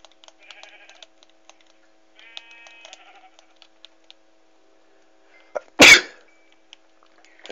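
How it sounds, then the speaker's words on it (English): Sheep bleat in a video game, two short quavering bleats early on, faint and spaced a second apart, followed by a loud sudden burst like a sneeze, with scattered small clicks through quiet. "Sheep."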